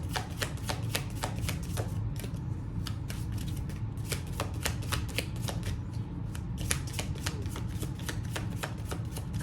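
A deck of angel cards being shuffled close up, a steady run of quick riffling flicks and slaps repeating over a low background hum, with no talking.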